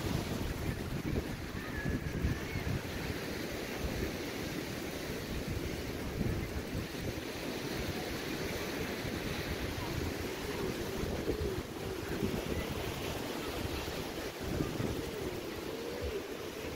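Constant wind rushing over the microphone with sea waves washing in the background, a steady broadband roar throughout.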